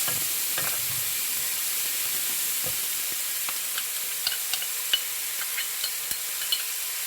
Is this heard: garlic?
yes